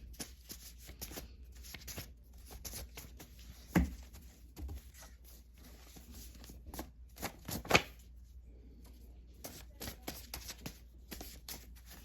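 Soft, rapid riffling and flicking of playing cards being shuffled, in several quick bursts with a couple of sharper snaps, close by and fairly quiet.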